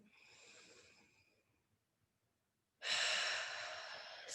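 Breathing during a yoga exercise: a soft, fading exhale, a pause of near silence, then a sudden, loud, deep inhale through the nose that holds steady, close to the listener.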